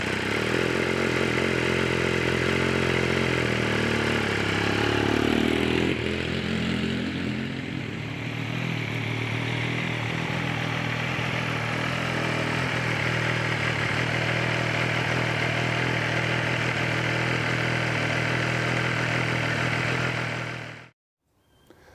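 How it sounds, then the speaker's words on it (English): A Benelli TnT 1130 motorcycle fitted with a hydraulic clutch kit runs steadily and loudly close by, its deep droning engine note shifting briefly around six seconds before holding even, then cutting off abruptly at the end. "I'm off to take this bike for a bit of a test ride"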